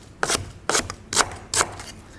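Four crisp knife chops through lemongrass stalks into thick discs on a cutting board, evenly spaced and close, each a sharp woody crunch with no talking.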